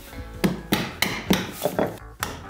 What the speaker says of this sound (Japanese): その板に合わせてね、細かいノコを入れていきます。